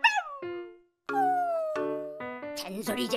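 A cartoon dog yelps, whimpers and lets out a drawn-out howl in quick succession, voiced by an actor imitating the dog and mixed with vocal sounds, loud and close.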